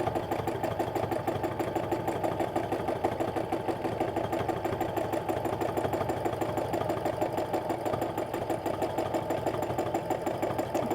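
Home sewing machine stitching a free-motion stipple meander quilt, a fast, steady mechanical whirring and rapid needle clatter running continuously, close and moderately quiet, with no talking.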